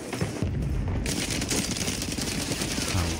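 Rapid automatic gunfire from Warzone on Rebirth Island, a dense, loud continuous burst of shots with booming low end filling the whole moment.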